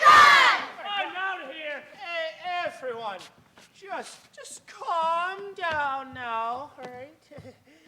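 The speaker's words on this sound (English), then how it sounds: "Boy, this crowd is getting ugly." Crowd of actors in a stage play of The Princess and the Pea shouting angrily together, loud overlapping yells and cries that continue for several seconds.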